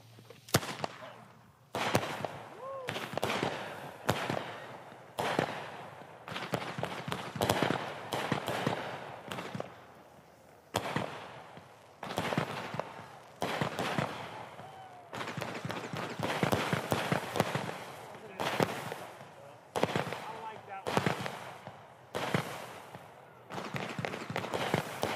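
New Year's fireworks and firecrackers go off in a long, loud barrage of sharp, rapid cracks and bangs close by, with people talking and reacting between bursts.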